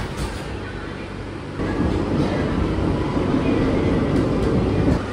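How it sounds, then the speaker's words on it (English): Short metro train in Barcelona riding between stations, with a steady low rumble of wheels and motor that swells louder partway through, interior rail noise with no talking. "Since this is such a short line, and short train for that matter, I'm gonna ride it all the way to the end and then back."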